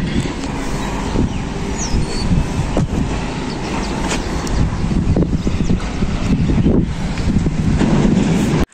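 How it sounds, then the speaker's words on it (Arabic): Wind blowing across a rooftop, a loud, continuous rush with gusting buffets against the microphone that persists for nearly nine seconds before cutting off. "شوف العجز الريح."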